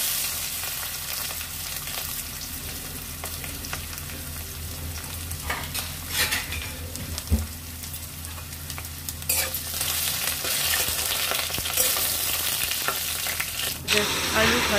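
Potatoes fry in oil with dried chilli, bay leaf and five-spice in a pan, a continuous close sizzle broken by repeated scraping and clattering strokes of a spatula stirring them.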